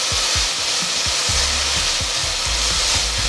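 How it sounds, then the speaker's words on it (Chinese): Diced potatoes being stir-fried in a pan, a loud continuous sizzle with repeated thumps and scrapes of a spatula tossing them. "现在我们放上马铃薯，给它翻炒一下"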